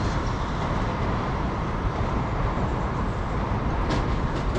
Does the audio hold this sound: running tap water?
no